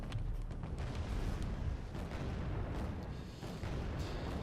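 An IR-102 bomber dropping bombs in Wargame Red Dragon on the Wonsan Chokepoint map: faint, distant, continuous rumbling booms and blasts blending into a low wash of battlefield noise.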